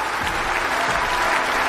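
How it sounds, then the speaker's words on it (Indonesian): Guests applaud with emotion for a ballerina dancing on an injured foot, a steady wash of many hands clapping, close and even throughout the short stretch. "yang ada kekaguman dan tepuk tangan haru para tamu"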